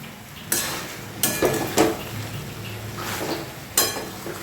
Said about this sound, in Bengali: এবার এটা ঘেঁটে দেবো।